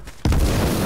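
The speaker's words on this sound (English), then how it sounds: "Watch out, grenades." A grenade goes off in the H1Z1 battle royale game: a sudden loud boom after a quiet moment, followed by a dense, sustained rumbling roar.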